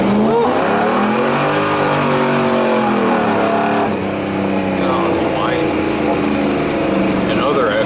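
A 1959 Nash Rambler pro-street car accelerates hard, its loud engine roar climbing through rising, sweeping harmonics, then easing and rising again. The sound is close and in-car, heard from a passenger ride, and people talk over it.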